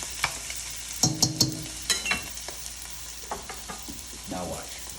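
Spatulas stir and scrape noodles across the bottom of a pan as they char and sizzle, with a quick burst of sharp scraping clatter early, then scattered softer scrapes over a steady frying hiss.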